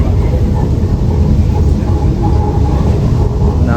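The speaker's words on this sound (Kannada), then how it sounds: "ಗೈಸ್ ಮೆಟ್ರೋ ಹೋಗ್ತಾ ಇದ್ದೀವಿ." A moving metro train gives a loud, continuous rumbling roar with steady broadband noise, as heard from on board.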